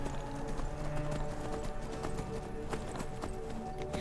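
Horse hooves clip-clop at a steady walking rhythm on a road in the Skyrim video game, distinct repeated hoof strikes heard close and clear without talking.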